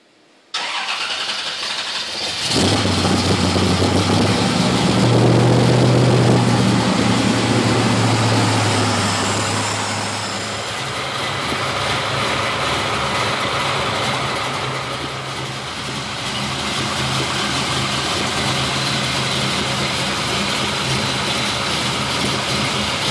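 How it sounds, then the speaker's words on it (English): A 400 cubic inch engine fitted with Edelbrock E-Street EFI cranks and catches after a short quiet start, then settles into a steady, loud, close idle with a slight waver and no voices. "at this point, we get to start the engine up and bring it up to operating temperature."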